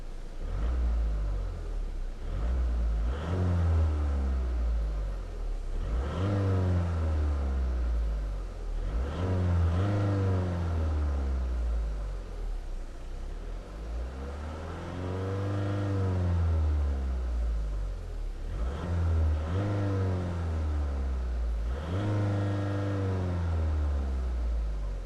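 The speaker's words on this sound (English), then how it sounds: "Alright, so let's go ahead and see how it revs." A 2019 Volvo V40 2.0 D2 diesel engine revs repeatedly, each rise in pitch swelling and then falling back to idle in a steady series of near, loud blips with no talking.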